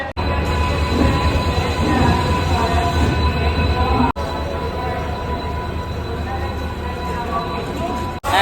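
A late-running train pulls into the station with a loud continuous rumble and rattle of wheels on rails, steady and close, broken by two brief cuts.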